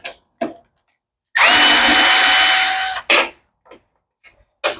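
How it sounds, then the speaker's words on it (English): A power drill or driver whirs in one steady burst of about two seconds while the carburetor comes off a Troy-Bilt mower with an old-style Briggs 550 engine, with short clicks and clatter from the tools before and after. "let's go ahead and pull the carburetor off and see what we've got"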